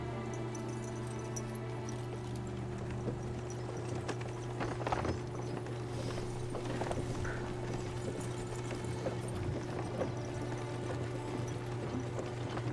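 Horse hooves gallop in the medieval video game Kingdom Come: Deliverance II, a steady rhythmic clip-clop of repeated hoofbeats over a low, constant background hum.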